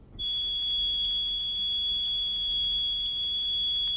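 Pure sine test tone at 2,000 mels, twice the reference pitch, a single steady high whistle held at constant loudness for the whole stretch, alone with no talking.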